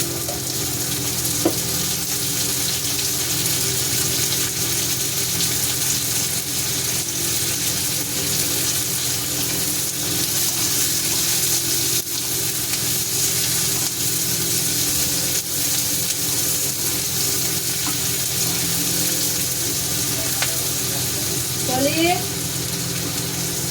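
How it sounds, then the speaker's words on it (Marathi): Oil sizzles in a pan at the start of a fish curry, with whole garam masala going in. The hiss is loud and steady, close up, with occasional clinks of a utensil. "थोडंसं तेल टाकून घेऊ"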